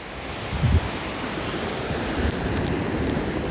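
Ocean surf rolls onto a beach in Goa, a steady broadband wash of breaking waves with wind buffeting the microphone, constant and close, with no voices.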